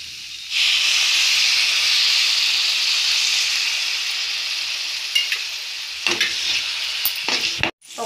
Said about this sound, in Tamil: சும்மா ஒரு 2 ஸ்பூன் வாட்டர் ஆட் பண்ணுறேன்